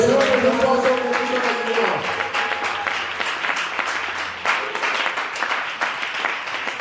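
A congregation bursts into sustained applause and cheering during a church service, starting over a fading musical tone, then continuing as a dense, loud wash of clapping that stays strong throughout.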